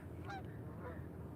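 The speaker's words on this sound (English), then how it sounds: "Geese flying right over top of my head." Geese flying overhead give a couple of faint, distant honks over a steady background hiss and low rumble.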